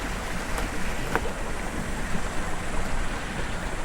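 Creek lined with fern and beech along a forest walking track, its water rushing in a steady, close broadband wash with no voices.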